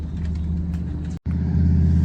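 A Ford Mustang arriving at Hot Rod Drag Week 2024 rumbles with a deep, loud engine note close by, briefly cutting out before the heavy throb returns and swells.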